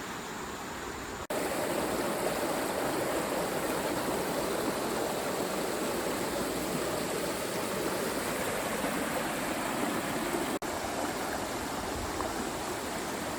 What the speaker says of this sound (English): All right, so this is a beautiful day, gorgeous spot on the river